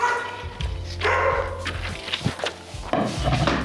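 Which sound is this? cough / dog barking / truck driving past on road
dog barking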